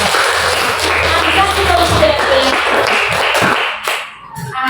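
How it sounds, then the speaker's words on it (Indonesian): Classroom students clap their hands in a burst of uneven, overlapping claps close by, with a few voices mixed in before the clapping thins out and stops. "Santo, ayo tepuk tangan buat kita semua."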